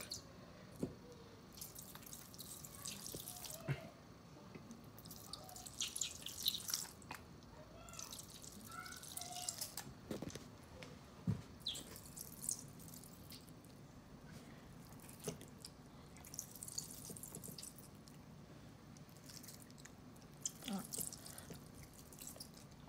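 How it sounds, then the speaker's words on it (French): Homemade chia seed gel drips and squishes in soft, scattered wet drops and gloopy plops, quiet and close, with short pauses between them. "ça, c'est du gel qui coule"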